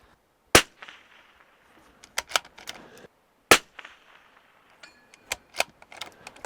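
Pistol shots at shooting practice with the shooter kneeling, two loud sharp reports standing out, followed by smaller clicks, clatter and lighter impacts between them.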